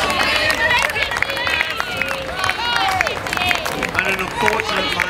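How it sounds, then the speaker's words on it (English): Crowd applauding and cheering as a rower crosses the finish line at a junior women's single sculls semifinal, steady clapping and bright chatter swelling continuously throughout. "a big round of applause as she crosses the line"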